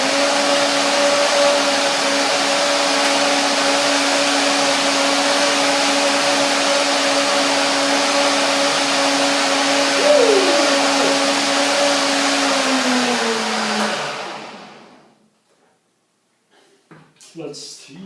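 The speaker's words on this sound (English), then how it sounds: "it is easier for the blender to get all the hard ingredients together, like the seeds and so" A blender runs steadily for about fourteen seconds, whirring loudly as it purees a turmeric sesame dressing with hard seeds, then winds down and stops, leaving faint clinks afterward.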